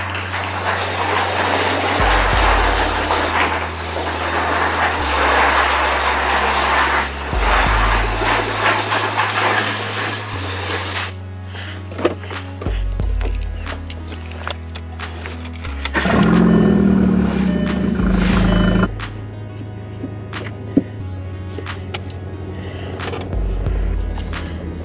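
A car creeps part way into a workshop, its engine giving a low, close rumble that shifts in pitch as it moves, with a few sharp clunks along the way.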